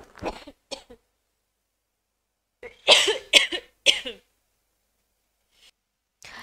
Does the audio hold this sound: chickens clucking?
no